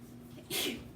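A single sharp sneeze bursts out midway over a low steady hum in a chemistry classroom, brief and close, with quiet background before and after.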